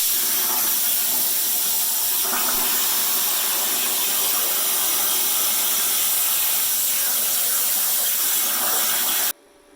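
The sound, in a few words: air compressor charging up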